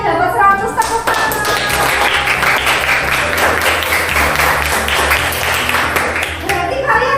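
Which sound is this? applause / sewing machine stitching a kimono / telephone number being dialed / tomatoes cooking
applause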